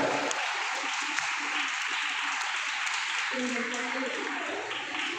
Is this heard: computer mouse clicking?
no